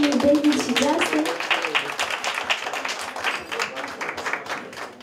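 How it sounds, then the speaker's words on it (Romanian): Party guests applaud for the little brothers David and Justin, a sustained wash of many clapping hands that slowly thins out, with a voice speaking over the start. "Aplauze și pentru frățiorii David și Justin"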